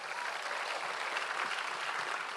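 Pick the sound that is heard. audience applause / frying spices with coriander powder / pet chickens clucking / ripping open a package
audience applause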